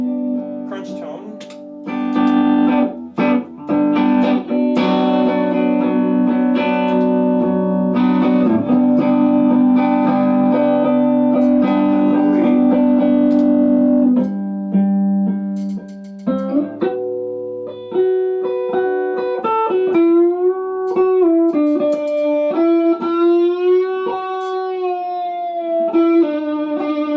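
An electric guitar plays with a crunchy, mildly distorted tone, sustained chords ringing out and then shifting into bending, wavering notes.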